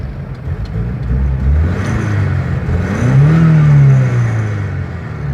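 A turbocharged Volvo project car's engine runs at light throttle, a loud, close, steady drone that rises into a smooth rev and then eases back down, with no talking.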